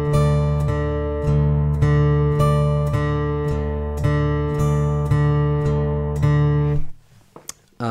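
A guitar plays a bright melody over a deeper, sustained bass line in a steady beat, close and loud, then stops abruptly near the end.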